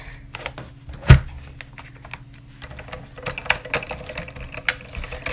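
An older Spellbinders die cutting machine is cranked by hand, producing a sharp clunk near the start followed by a run of quiet, irregular clicking and ratcheting taps.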